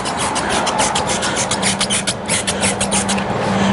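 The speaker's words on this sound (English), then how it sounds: "I'm gonna scrub it in with a brush" A stiff brush scrubs degreaser into a greasy horizontal milling machine in quick, rhythmic rasping strokes, close and fairly loud, with a faint steady hum underneath.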